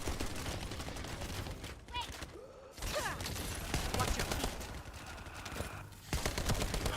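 Rapid gunfire from a looter-shooter game as players fight spawning enemies, dense bursts of automatic fire nearly continuous, briefly dropping out twice, with a voice talking over the action.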